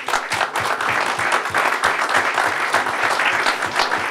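Audience applause at a roundtable on sous vide cooking, a dense, steady wash of many hands clapping that holds at even loudness for the whole span with no voices over it.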